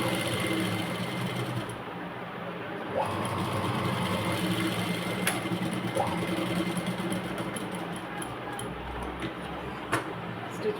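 A sewing machine stitches baby frock fabric, its steady mechanical whir running close and continuous throughout, with a few brief clicks and pauses along the way.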